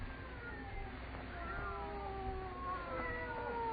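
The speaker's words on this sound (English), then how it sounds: "They're not ordinary cats. Listen to them." Cats yowl in long, wavering, overlapping cries, two voices rising and falling continuously over a steady low background hum, on an old 1937 radio-drama recording.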